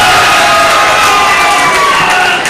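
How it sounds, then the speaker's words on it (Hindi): Audience at a mushaira poetry gathering in Khamgaon cheers and applauds loudly, a dense, steady wash of crowd noise filling the hall throughout and easing slightly at the end. "सबसे पहले इनके लिए जोरदार तालियों से इनका इस्तकबाल है।"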